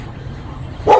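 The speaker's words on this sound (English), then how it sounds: "Excuse the barking of the neighbor's dogs." A neighbor's dog gives a single sharp bark over low background noise in a back garden.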